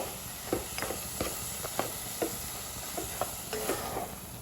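Beetroot pachadi with coconut paste being stirred in a pan, soft scraping strokes of a spoon at an uneven rhythm over a faint sizzle, quiet and close with no talk.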